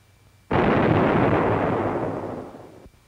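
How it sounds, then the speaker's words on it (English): A 30-gallon copper water tank bursts in a small cabin after water hammer, a single loud, close blast that sustains as a roaring rumble for over two seconds before cutting off abruptly. "In this small cabin, a 30-gallon copper tank exploded"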